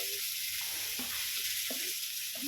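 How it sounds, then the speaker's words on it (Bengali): Potatoes and jackfruit seeds stir-fry in a pan with a constant loud sizzle, broken by several scraping strokes of a spatula stirring them at an uneven pace. "আলু আর কাঁঠাল দানা এত সুন্দর করে কষাতে হবে, কষাতে কষাতে সিদ্ধ হয়ে যাবে"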